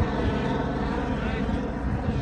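A rescue helicopter flies over a San Diego canyon at night, a loud continuous rotor and engine roar close overhead, with voices faintly underneath.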